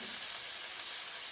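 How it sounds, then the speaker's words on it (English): Homemade gnocchi brown in sizzling brown butter in a hot pan, a steady close hiss of frying that stays even and unbroken throughout, with no talk. "You're gonna let the gnocchi get a little bit more brown from the heat of the pan and the brown"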